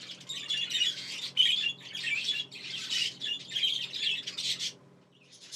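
Budgies in a breeding stud chirping and chattering in quick bursts, a steady close twittering that fades out near the end, with no talk.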